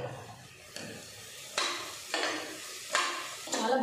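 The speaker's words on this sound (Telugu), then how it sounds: "మసాలాను కొంచెం ఆయిల్ అట్లా ఫ్రై చేస్తున్నా." Masala spices frying in oil for chicken biryani, a soft sizzle broken by several scraping stirs of a spoon in the pan, fairly quiet and with no talk.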